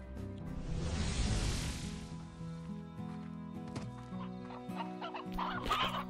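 Hens clucking in the video game Slime Rancher, several birds with repeated clucks and squawks layered over steady game music, loudest early on and again near the end.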